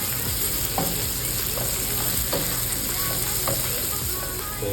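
Chopped onion and chili sauté in a hot pan of oil, giving a steady close sizzle that holds throughout, broken by several soft stirring scrapes.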